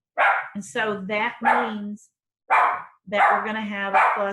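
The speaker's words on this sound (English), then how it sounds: "sorry about the dog" A dog barks a few short, sharp times in the background while a person keeps talking steadily over it.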